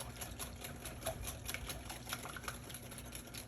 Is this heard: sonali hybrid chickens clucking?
no